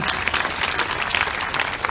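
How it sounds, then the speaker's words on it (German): Audience applause at an outdoor festival in a castle park, brief, dense and loud clapping from a large crowd, steady throughout. "Carola, das ist nochmal dein Applaus."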